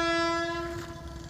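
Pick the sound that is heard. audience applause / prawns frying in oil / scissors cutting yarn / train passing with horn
train passing with horn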